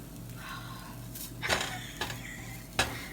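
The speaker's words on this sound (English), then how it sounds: "Make sure you stir this around too, because you don't want burnt garlic in your soup." Garlic stirred in a soup pot, a quiet low sizzle beneath several distinct scraping and clinking strokes of a utensil against the pot; no talk.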